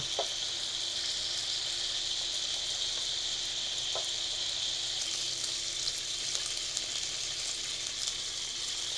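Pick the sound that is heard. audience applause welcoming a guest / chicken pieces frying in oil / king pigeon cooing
chicken pieces frying in oil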